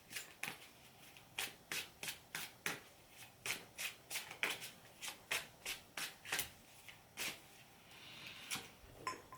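Tarot cards shuffled by hand in quick repeated riffles, roughly twenty crisp bursts in an even rhythm, close and clear with no talking.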